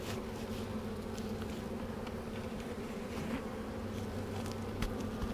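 Honey bees in a small hive of a few hundred hum in a steady, close drone that holds evenly throughout, with faint higher buzzing flickers.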